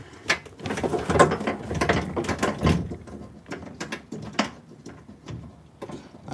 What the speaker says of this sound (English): you can spin the motor on your own